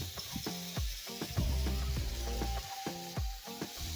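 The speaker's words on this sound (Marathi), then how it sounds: "आणि या बटरमध्ये परतून घ्यायचा आहे आपल्याला हा पालक।" Spinach sautéing in butter with salt in a pan: a quiet, close sizzle punctuated by rhythmic scraping stirs of a spatula.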